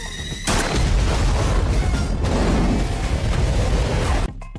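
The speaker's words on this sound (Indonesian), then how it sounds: "Ketika ditembak oleh seorang polisi, drone itu meledak." Movie sound effect of a drone blowing up after a police officer shoots it: a sudden loud boom with a rumbling, crackling blast that sustains before cutting off abruptly.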